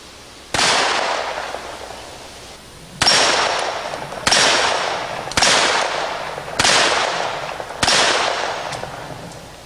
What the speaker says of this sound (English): Or maybe you want to shoot a bigger caliber like a 44 or a 45.